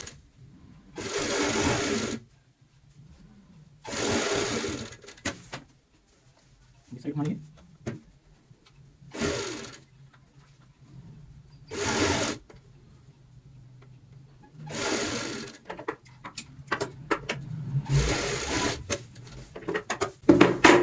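An electric sewing machine stitches a frill onto a pillow cover in several loud, close bursts of rapid whirring, each a second or two long, separated by pauses while someone talks.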